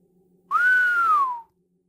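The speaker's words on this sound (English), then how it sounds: "He whistled low as they entered." A man gives a single low whistle, a smooth tone that rises slightly and then glides down, clear and lasting about a second against quiet.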